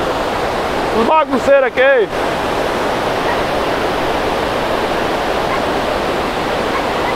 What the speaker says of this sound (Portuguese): E a água continua a descer.